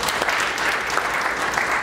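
A crowd claps steadily, dense and even, with no break across the short stretch, at an event in Tanzania honouring a world champion athlete.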